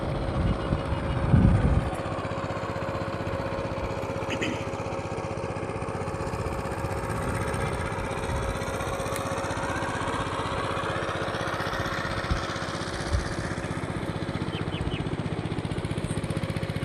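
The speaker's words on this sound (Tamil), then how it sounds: "அங்கே கை வண்டி ஓட்டிகிட்ருக்குறாங்க." A small hand tractor works a paddy field, its engine giving a steady, droning putter that carries on without pause, with a brief louder knock near the start and no voices.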